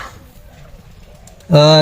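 A domestic pigeon kept in a home loft, a hen that has just laid eggs, gives a sudden loud, close coo after a quiet stretch of faint background.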